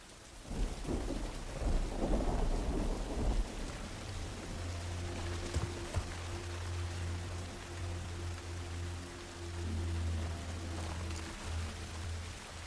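Steady heavy rain and rolling thunder in the video game The Last of Us, with a loud thunder rumble early on and continuous rainfall hiss throughout, no talking.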